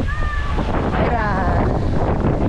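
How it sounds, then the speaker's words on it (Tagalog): Waves slap against a moving boat amid a steady wind rush and engine rumble, close and continuous, while people talk. "There's so many waves."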